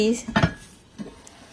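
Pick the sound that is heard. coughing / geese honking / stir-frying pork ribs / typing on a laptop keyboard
stir-frying pork ribs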